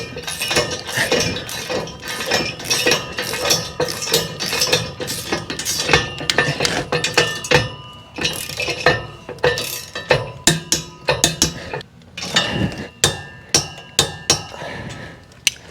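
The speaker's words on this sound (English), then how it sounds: "we'll just tighten these down to 75 foot-pounds" A wrench tightens 3/4-inch bolts on a Mototote Max motorcycle hitch carrier to 75 foot-pounds, with dense bursts of metallic ratcheting clicks and clinks, loud and close, pausing briefly before quicker isolated clacks.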